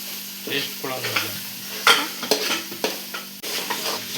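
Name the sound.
stirring and mixing food frying in a pan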